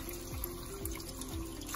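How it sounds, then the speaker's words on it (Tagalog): Water from a tap runs and splashes into a pressure cooker holding pork belly for boiling, a steady close pour with no talk. "Lagyan po natin ng tubig."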